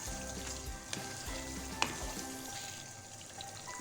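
Beef bhuna masala with lemon juice is stirred in a pan, producing a steady, fairly quiet frying sizzle with a few light spoon taps and scrapes scattered through it, and no voices.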